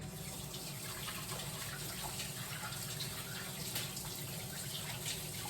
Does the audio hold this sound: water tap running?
yes